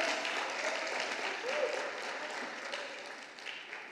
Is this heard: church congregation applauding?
yes